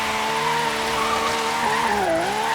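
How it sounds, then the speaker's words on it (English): A Pagani hypercar in Forza Horizon 3 slides sideways, its tyres squealing in a long, loud, continuous skid over a steady engine drone, the pitch wavering and dipping near the end. "let's see if we can get this mid-engine hypercar or supercar sideways around this"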